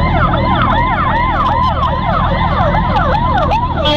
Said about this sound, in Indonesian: Harusnya kita tuh nge-escort ambulan